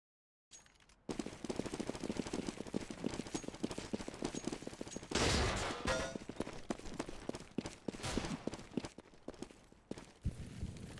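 Gunfire in a Counter-Strike esports match between mouz and 3DMAX, with a UMP submachine gun in play; dense rapid bursts of shots run nearly throughout, loud and close, with a brief heavier burst midway.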